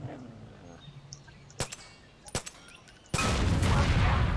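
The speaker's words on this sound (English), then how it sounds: "What happens when propane catches on fire like that?" Propane catching fire and exploding in Far Cry 5, set in Hope County: two sharp blasts ring out over a low background, then a loud sustained roaring burst of fire takes over through the end.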